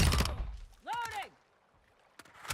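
Mechanical clicks and clacks of a weapon reload in a video game, a burst of rattling at the start and another short clack near the end, with a brief voice sounding in between.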